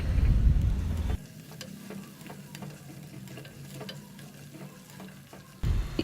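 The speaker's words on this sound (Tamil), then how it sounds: "இப்போ இந்த முள்ளங்கியை நம்ம இந்த எண்ணெயிலே நல்லா வதக்கிக்கலாம்." Chopped radish sautéing in oil in a pan, a loud sizzle at first that drops to a softer crackle with scattered stirring clicks, then swells again at the end.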